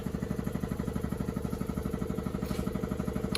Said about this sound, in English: we have the air compressor on right now